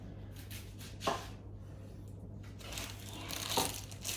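Crinkly, mucky outer skin peeled off an onion by hand in a kitchen, giving soft papery crackles and two sharper crunches against a faint steady hum.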